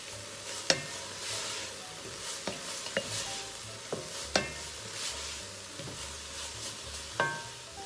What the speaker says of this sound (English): And then stir that all in.